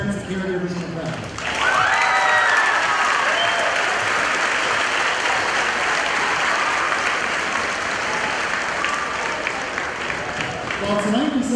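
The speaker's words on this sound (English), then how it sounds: "how about a round of applause for all the parents and caregivers in the crowd?" Warm applause from a graduation ceremony crowd honoring parents and caregivers, a dense sustained clapping that swells in after a short spoken lead-in and carries on evenly for several seconds.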